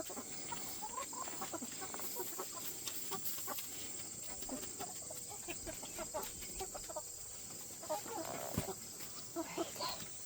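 Chickens cluck and chatter continuously in a busy coop, with scattered sharp calls over a steady background hum.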